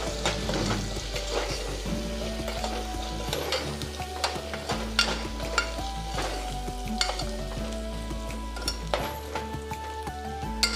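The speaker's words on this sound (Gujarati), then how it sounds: "હવે આ બધું આપણે મિક્સ કરી લઈશું." Ridge gourd stirred in a frying pan with spices and ginger-chili-garlic paste: continuous sizzling under repeated scraping and clinking spoon strokes against the pan, close and fairly loud, with no speech.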